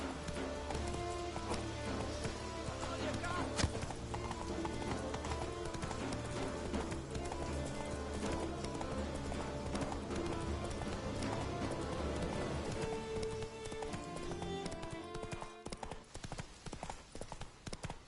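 Horse hooves clip-clop at a steady gallop in The Witcher 3, dense and continuous over game music and ambience, with a brief whinny, thinning toward the end.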